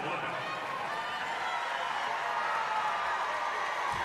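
A basketball arena crowd at an LSU vs UCLA women's college Sweet 16 game roars steadily, with dense, sustained cheering and a continuous wash of noise from many fans in the fourth quarter.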